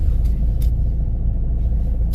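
Steady low engine and road rumble heard from inside a moving car, continuous and fairly loud, with faint high clicks and no talking.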